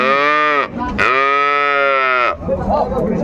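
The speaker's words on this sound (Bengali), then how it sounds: "চমৎকার গাভী বাছুর" At a cattle market, a dairy cow moos twice, loud and close, each low call drawn out for over a second, followed by faint background noise.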